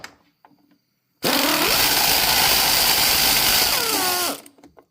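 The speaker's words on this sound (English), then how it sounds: "Take out all the bolts from the front of the timing cover out" A powered ratchet whirs loudly for about three seconds, spinning out a bolt from the timing cover of a Toyota Corolla 1.8L engine, with brief faint clicks before and after.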